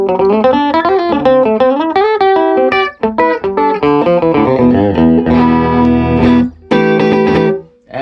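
Electric guitar played through a Fender Pro Junior amp with a 10-inch Jensen Alnico speaker, tone control rolled off; loud, dark, slightly driven chords and single-note runs ring steadily for about eight seconds, with short breaks between phrases.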